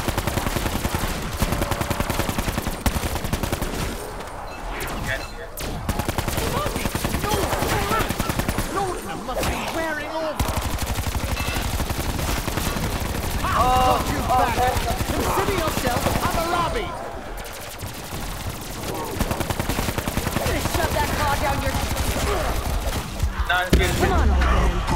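Rapid automatic gunfire in the Black Ops 4 Zombies game rattles in long bursts with brief gaps, loud and close, while players talk over the shooting.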